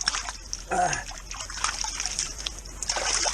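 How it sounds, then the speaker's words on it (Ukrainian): A small forest stream trickles and babbles close by on a cycling trip near Magdeburg, a steady gentle flow of water with a few brighter splashes and no talk. "Струмочок тече."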